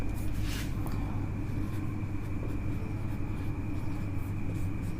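Marker or chalk scratching steadily across a classroom board in a continuous run of writing strokes, close and moderately loud with a faint hum behind, no talking.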